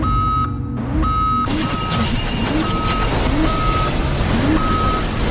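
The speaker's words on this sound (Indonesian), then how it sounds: "Thomas dan kawan-kawan pun dikejutkan oleh alarm peringatan bahaya" A danger warning alarm in a science-fiction film beeps in repeated short electronic tones at an even pace over a loud background rumble, with no one speaking.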